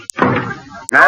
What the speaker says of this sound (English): Door slams.